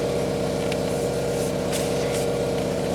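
A VW MK4 Golf engine runs with an exhaust leak, a steady throbbing drone with a rapid low pulse, close and continuous with no talk.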